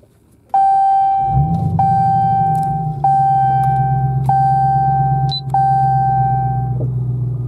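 A Dodge Challenger SRT Hellcat Redeye Widebody fires up with a push-button start, a sudden loud close rumble settling into a steady idle while a dashboard chime beeps repeatedly in even intervals over it.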